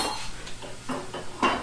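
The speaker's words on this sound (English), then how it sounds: "we're gonna go ahead and mix it up all right away" A spoon stirs sofrito in a cooking pot for Cuban picadillo, making a few light metallic scrapes and clinks, close and soft, with no talking.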